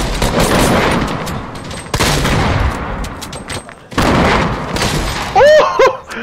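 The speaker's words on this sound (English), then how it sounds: "My man's lobbing them nades at his ass." Grenade explosions in the Fortnite video game, several loud booms and bursts of blast noise in quick succession, with gunfire crackle and short electronic game effects near the end.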